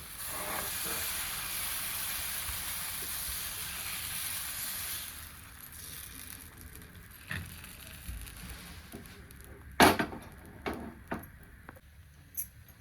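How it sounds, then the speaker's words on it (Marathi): Sabudana and bhagar batter spreads onto an oiled hot griddle on a gas stove, giving a soft steady hiss that fades, followed by scattered sharp crackles and pops close by. "आपण मी थोडं थोडं पीठ ह्याच्यावर वतून घेऊया"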